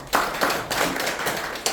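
An audience at a community development forum claps in a few uneven, sparse bursts, close and fairly loud, each clap rising sharply before the sound trails off.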